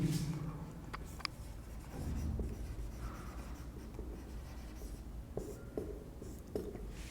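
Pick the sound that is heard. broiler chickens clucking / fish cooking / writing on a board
writing on a board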